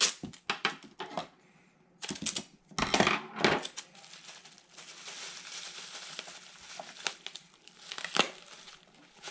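Paper packaging being folded and taped for a parcel, with close crinkling, rustling and sharp crackling bursts in irregular clusters, some louder handling knocks between quieter stretches, and no speech.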